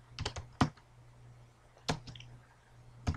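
Keys on a computer keyboard are struck in sparse clusters, a few quick quiet taps followed by isolated sharper clicks with pauses between, close and alone.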